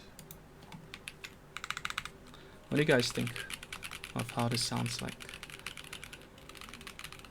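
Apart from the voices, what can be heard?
typing on KBDFans D45 mechanical keyboard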